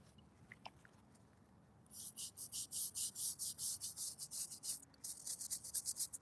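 A stiff brush scrubs a weathered gravestone in a cemetery, a quick rhythmic series of close scratchy strokes starting after a quiet moment and running continuously.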